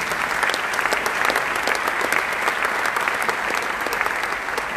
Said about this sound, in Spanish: Les pedimos un aplauso, por favor.